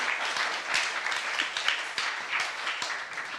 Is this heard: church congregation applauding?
yes